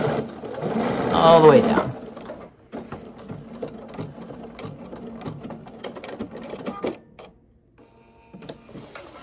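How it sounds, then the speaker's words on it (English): A sewing machine stitches a pant-leg seam on Vinton pants, whirring loudly for about two seconds before stopping, followed by softer mechanical handling noises while a person talks. "So we have done the stitching from the top all the way down."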